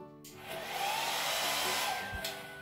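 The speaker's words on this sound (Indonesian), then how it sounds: "Nah, di sini apa hair dryer." A hotel bathroom hair dryer switches on and runs with a steady, loud blowing whir close to the microphone, continuing without any talk over it.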